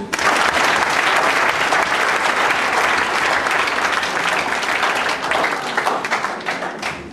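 A church congregation claps vigorously at a deliverance service, a dense, loud, continuous patter of many hands that holds steady for several seconds before easing slightly near the end.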